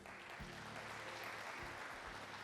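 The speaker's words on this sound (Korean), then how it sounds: "함께해 주시는 과학기술계 관계자 여러분께 또 큰 박수 부탁드립니다" Audience at a conference opening ceremony applauding: dense, steady clapping across a hall, fairly faint and distant, with a few louder low thumps, no speech.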